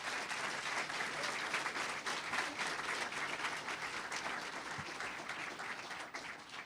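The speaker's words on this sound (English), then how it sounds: "May we have a round of applause for both of our candidates" An audience at a 2018 Trenton political debate applauds the candidates, a dense, steady burst of many hands clapping that carries on for several seconds and gradually thins toward the end.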